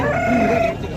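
A single loud, close crow from an Aseel fighting rooster with a long tail at a Saturday Aseel market in Mydukuru fills the whole second, alone without talk.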